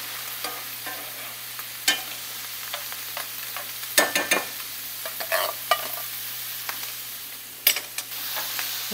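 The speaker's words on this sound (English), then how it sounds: "we are going to add our can of pinto beans, juice and all, because it's going to kind of evaporate" Canned pinto beans poured with their liquid into a pan of frying onions, giving a steady hiss with scattered stirring scrapes and clinks, close and moderately loud throughout.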